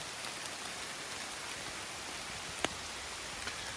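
Rain falls steadily in an outdoor work area, a dense, even hiss throughout with a couple of sharper drip or tap sounds standing out.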